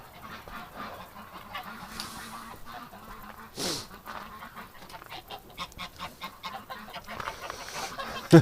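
Geese honk repeatedly in a noisy cluster, close by, with overlapping calls and a louder burst partway through.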